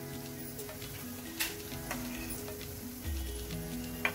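Garlic-ginger paste and dabeli masala sizzling in hot oil in a pan, a steady close crackle with a few soft stirring knocks.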